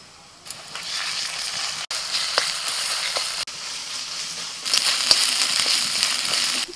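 Onions fry in a hot iron wok as ginger-garlic paste goes in. A loud, close sizzle crackles steadily, broken by a couple of brief stirring scrapes, and swells near the end.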